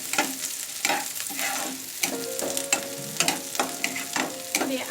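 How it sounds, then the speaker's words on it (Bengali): Onions frying in oil in a wok, with a continuous sizzle broken by repeated scraping and clinking strokes as they are stirred nearby. "কড়াইতে আমি 3 টেবিল চামচ পরিমাণ তেল দিয়ে তাতে প্রথমে আমি পেঁয়াজ দেব।"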